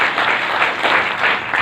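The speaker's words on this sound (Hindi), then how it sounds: "एक बार जोरदार तालियां" An audience at a network marketing business event breaks into loud, sustained applause, a dense wash of clapping hands with no voices.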